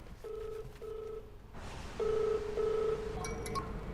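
A phone rings with a repeating electronic ringtone of short, even beeps in a regular rhythm, fairly clear against a quiet room.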